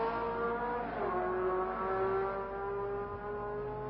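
Formula 1 race cars at the 1966 French Grand Prix, including a Cooper Maserati, drone in a steady engine roar with one pitch sweeping past, a fairly close but muffled sound.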